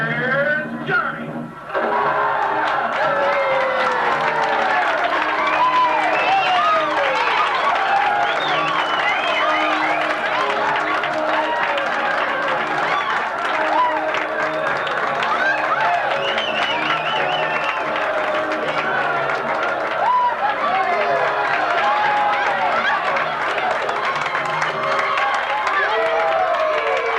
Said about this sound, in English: Were you applauding me, or was it all the free booze tonight?